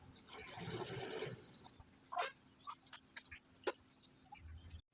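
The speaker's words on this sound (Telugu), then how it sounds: "ఇదిగోండి పులుసు పోసేసుకుంటాను" Tamarind broth pours steadily into a pot for about two seconds, then a few light clinks and splashes follow in a quiet room.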